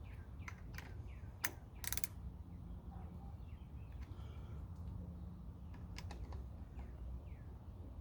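A ratchet snugs a grip bolt on a 2021 Harley-Davidson Street Bob FXBBS, giving a few faint, quick clicking bursts close by against a quiet background hum.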